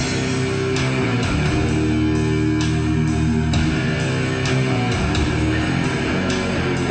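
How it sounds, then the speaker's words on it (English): Ambient opening section of the Universe at War: Earth Assault video game soundtrack, sustained low droning tones and layered pads with soft recurring percussive hits, loud and continuous with no voices. "The song actually starts off with an ambient section, which sounds like this."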